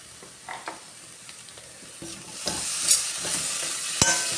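Chopped tomato frying in a spiced pan gives a steady hiss and crackle, broken by repeated scrapes and knocks of a stirring spoon, close and moderately loud with no talking.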